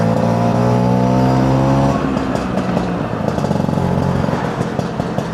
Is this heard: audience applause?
no